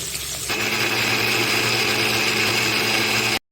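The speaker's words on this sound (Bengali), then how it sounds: "এগুলোকে মিক্সিতে পেস্ট করে নেব।" A kitchen mixer grinder whirs steadily, blending medium onion, tomato and two garlic cloves into a paste for a silver carp fish curry, loud and continuous before cutting off abruptly.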